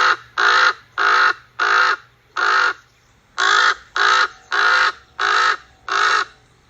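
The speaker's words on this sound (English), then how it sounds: "I write out the sound as crock, K-R-R-A-W-K, but it actually sounds like this." A raven gives ten loud, harsh croaking calls in a steady rhythmic series, each a short rasping burst separated by brief pauses, close and clear with no talk.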